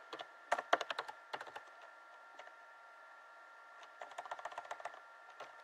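Computer keyboard typing while editing a PCB footprint in a text editor: quick, soft clusters of keystrokes, a short burst, a pause, then a faster run of taps, close and quiet over faint hiss.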